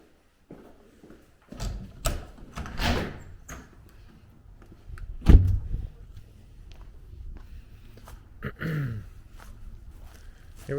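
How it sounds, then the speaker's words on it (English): Walking through a house, a door is opened with a loud thud near the middle, surrounded by scattered footsteps, clicks and rustling; brief low voices and breaths come and go. "Let's cut through this irrelevant door"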